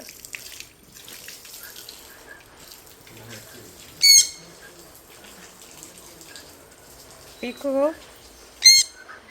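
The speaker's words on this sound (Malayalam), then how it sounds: "ഒരു രണ്ട് കുഞ്ഞിക്കിളികളുണ്ട് കിളികളുണ്ട് അതിനെ കുളിപ്പിക്കുവാണേ" Two pet baby birds chirp while being bathed outdoors, giving a few sharp, loud chirps and squawks over a low, steady background murmur.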